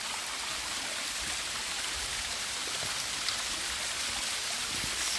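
A waterfall at Palani in Ramgarh, Jharkhand, pours over rocks in a steady, dense broadband rush that stays loud and unbroken throughout, with no voices.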